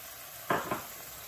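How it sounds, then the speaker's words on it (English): Prawns, peppers and tomatoes frying on high heat get two quick, close scrapes of a spoon in the pan over a faint steady hiss. "I'm going to mix this on high heat"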